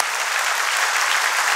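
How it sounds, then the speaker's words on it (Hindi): Applause from a seminar audience, a steady dense wash of many hands clapping that fills the whole moment without pause, fairly loud and close, with no talk over it. "ये आप जो ताली बजा रहे हो ना"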